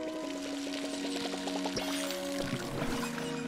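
In the farming game Palia, water pours from a watering can onto plants, a steady splashing trickle against a backdrop of tonal game music and no voices.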